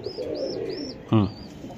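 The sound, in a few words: pigeon cooing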